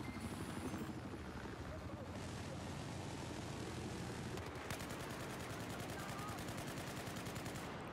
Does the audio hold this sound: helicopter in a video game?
yes